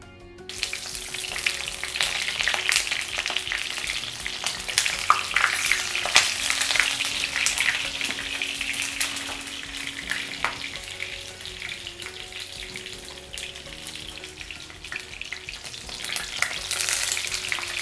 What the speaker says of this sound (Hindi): गैस की आंच को थोड़ा धीमे करते हैं और बैंगन को इसमें फ्राई कर लेते हैं